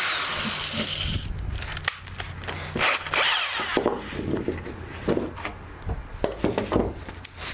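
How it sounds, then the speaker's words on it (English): A power drill with a centering bit bores a hole through wood for a wine bottle holder, giving a loud, rough whirring grind with rasping surges and brief dips as the bit bites in. "Remember to line up the centering bit with the hole, and then start drilling."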